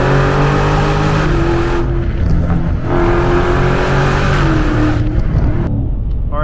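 A Dodge Challenger Scat Pack engine roars loud and close, its pitch climbing and dipping through gear shifts as it accelerates hard, with no talking.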